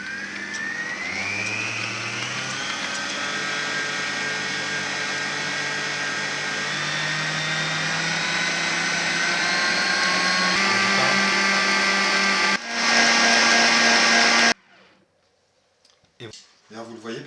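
Chestnut cream mixture being worked with a whisk or electric mixer, a loud close whirring drone that rises in pitch, then a short harsher burst before cutting out into near silence.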